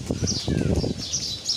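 A released pigeon takes off, a quick burst of clattering wing flaps heard close for about a second before fading, with faint chirps in the background.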